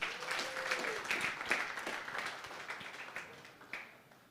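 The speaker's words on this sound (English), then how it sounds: "one more time, please give our pitchers a round of applause." An audience at a business workshop gives a round of applause for presenters, opening in a burst of clapping that gradually thins and fades.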